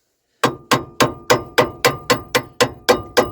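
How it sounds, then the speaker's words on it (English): Eleven sharp metallic hammer strikes on a pry bar ring out in a steady, even rhythm, each with a short bright clang against metal, close and loud, while removing parts from a 1991 Ford F-150. "Hammering while putting pressure on it"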